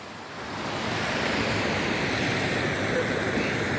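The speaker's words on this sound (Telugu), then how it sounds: "వాటర్ ప్రవాహం చూడండి." River water rushes near a bridge by the Kotilingala temple in Adilabad, a broad, steady wash of flowing water that fades in and then stays constant.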